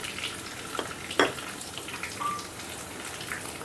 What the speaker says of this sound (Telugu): ఇప్పుడు ఇందులో సన్నగా తరిగిన ఈ ఉల్లిపాయ ముక్కల్ని వేసేసుకుందాం